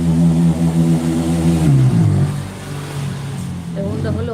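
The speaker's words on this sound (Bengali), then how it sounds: "বাইকের আওয়াজ এমন হয় আমি মনে করছি যে মশার ওষুধ দিতে আসছে" A motorcycle engine drones and revs nearby outdoors, its low steady hum shifting in pitch partway through, with people talking over it.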